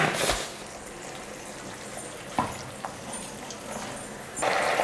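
Water is added to a pan while Dragon Chicken cooks. A short splashing pour comes first, then a quiet simmering stretch with a few small knocks, and a second pour swells near the end, close by.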